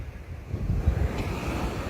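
Ocean waves wash against a sea shore as a steady low rumbling surf, with gusty wind noise hitting the microphone throughout and no voices.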